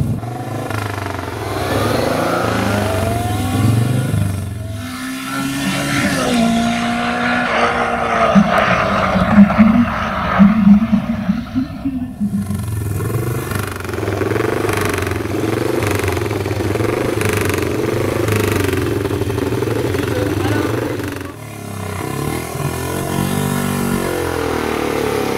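Racing sidecar motorcycle engines rasp and rev repeatedly at the 2023 Quintal historic hill climb, with loud, fluctuating acceleration, brief gear-change dips and a hard-revving pass midway, with no speech over the engine noise.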